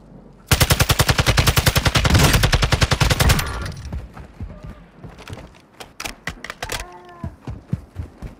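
M4 rifle in a shooter video game firing a loud, dense automatic burst for about three seconds, followed by scattered single shots and sharp impacts, with occasional voices underneath.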